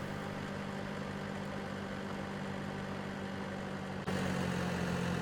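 Tractor engine idling in Farming Simulator 17, a steady low rumbling drone that holds constant and then steps up slightly louder near the end, with no voices over it.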